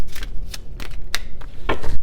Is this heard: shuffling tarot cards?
yes